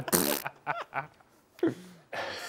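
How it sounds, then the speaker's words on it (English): A loud, honking nose blow with a short second blast, separated by brief quiet breaths and small nasal snuffles, close to the listener. "Blow my nose here."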